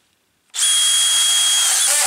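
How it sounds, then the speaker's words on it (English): A drill driver driving screws into a tube-frame shop truss starts abruptly after a moment of silence and holds a loud, steady high whine close by. "the drill driver goes in maybe faster"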